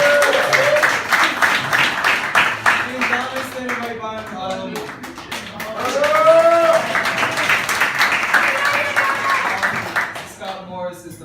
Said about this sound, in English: please give a big, huge round of applause to Mr.